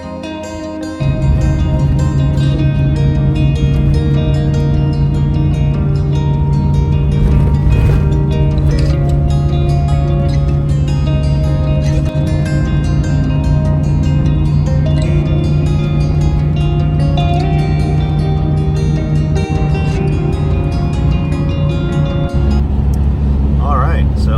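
First-generation lifted Toyota Tundra on bigger, heavier tires towing a trailer on the interstate at about 65 mph, a loud constant low engine drone and road roar heard from inside, with a person talking over it.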